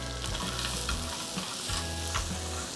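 Mussels fry in olive oil in a pan for seafood fra diavolo, giving a loud, continuous close sizzle with occasional stirring clatter and no voices.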